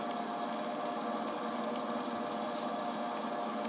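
A lawn mower engine struggles up a hill on newly landscaped land with a constant buzzing, rattling drone close to the listener. No one talks over it.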